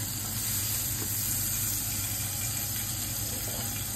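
Butter and cooking oil sizzling in a kawali while preparing sinangag na mais, a steady broadband hiss with a constant whine, even and unbroken throughout.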